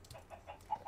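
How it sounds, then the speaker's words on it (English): Chicken clucks from a video game come in a few short, soft bursts, fairly quiet and close together. "Hey, chicken. Hey, no, get back."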